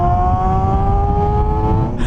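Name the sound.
Suzuki GSX250F Across motorcycle engine revving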